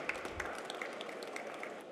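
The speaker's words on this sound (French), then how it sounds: "On peut l'applaudir aussi." A trade-show audience applauds a speaker, giving a short, faint patter of scattered hand claps in a large hall.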